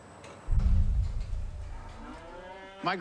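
Dairy cows moo in a barn: one long, loud, low moo up close, then another cow's higher, wavering call near the end, over a faint room hum.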